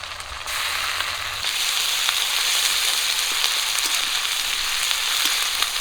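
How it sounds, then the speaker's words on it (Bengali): Ginger-garlic paste hits reddened fried onions in a hot pan for a chicken curry with lemon leaves, giving a loud, continuous sizzle that swells after a moment and hisses evenly on, with no talking. "পেঁয়াজ একটু লাল করে ভেজে নিয়েছি আদা রসুন বাটাটা দিয়ে দিচ্ছি"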